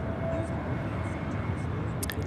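An American Airlines jet arrives at Charlotte Douglas International Airport, heard as a steady, broad engine roar at a distance, constant through the short stretch, with no talking.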